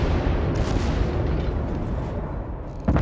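Warship guns and torpedoes in the naval video game World of Warships, a loud, continuous deep rumbling boom of gunfire filling the short stretch, with a fresh blast near the end.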